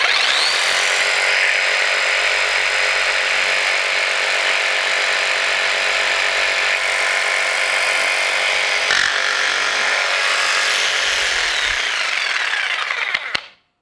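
A Festool PS300 jigsaw runs at full speed, its blade plunging into a zero-clearance splinter guard, a loud, steady, buzzing whine close up that holds for about thirteen seconds and then cuts off at the end.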